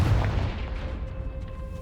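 A Confringo fire spell blasts in Hogwarts Legacy, a loud booming burst up front that rumbles down into a steady low roar and fading crackle over about two seconds.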